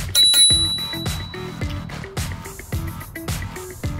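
A small e-scooter bell rings repeatedly in quick, bright dings, about one every half second, close and clear with no voices.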